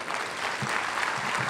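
Audience applause at a Father of the Year awards event, a steady dense wash of clapping that fills the whole moment without a break.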